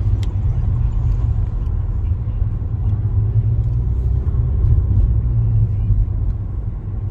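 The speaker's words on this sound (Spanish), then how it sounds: "Ahorita vamos rumbo hacia la casa. No más que ya se agarró el tráfico un poquito." A car rolls through thickening early-afternoon city traffic in Los Angeles, a steady low road rumble and engine drone continuing close and even from start to finish, with no voices.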